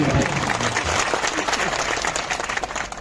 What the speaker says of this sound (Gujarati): તાળીઓ પાડીએ